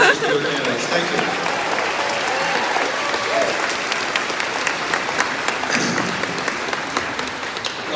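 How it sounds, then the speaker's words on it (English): A caucus crowd at Iowa's Precinct 4 applauds its candidates' spokespersons with loud, steady, dense clapping that holds evenly throughout, with voices faintly mixed in. "Let's have a round of applause for all of these spokespersons for their candidates"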